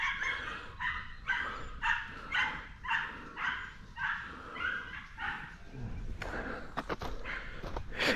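A dog barks repeatedly while chasing rabbits around a burrow on open ground, a steady run of sharp barks and yips spaced about half a second apart, fairly close, followed by a few excited whimpering yelps.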